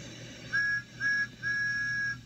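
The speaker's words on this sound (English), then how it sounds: "All steam engines have whistles." A cartoon steam engine's whistle sounds three times, two short toots and then a longer blast, clear and steady over a low background hum.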